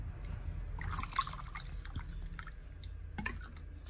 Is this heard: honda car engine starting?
no